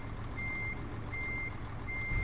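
A truck's reversing alarm in Euro Truck Simulator: three evenly spaced, steady high beeps over a low idling engine rumble.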